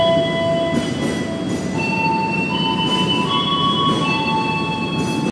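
The Airlangga economy train runs along its rails on the Jakarta–Tegal route, heard as a loud, continuous rumble with thin, drawn-out tonal squeals rising and shifting above it, and no talking.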